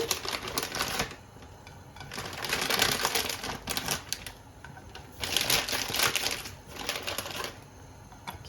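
About 100 grams of spinach tipped into a frying pan of hot oil over medium heat for spinach pancakes, giving a dense crackling sizzle that swells and fades in waves, close and with no talking.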